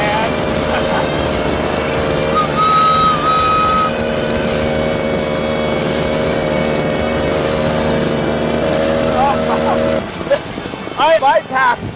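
Small engine on a homemade kids' motorized scrap-yard train, running wide open with a loud, steady buzzing drone for about ten seconds before cutting out, followed by excited voices talking.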